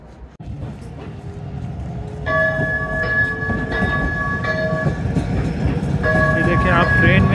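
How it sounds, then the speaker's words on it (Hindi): Calgary C-Train light rail train at City Hall station, heard close by with a steady rumble, loud tonal horn or chime notes sounding twice, and crowd noise from a packed New Year's platform. "ये कैलगरी की सी ट्रेन है सिटी हॉल का स्टेशन है"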